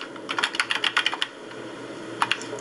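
Search keywords typed on a 1995-era computer keyboard: a quick close burst of crisp key clicks, a pause, then a couple more taps, with no talk.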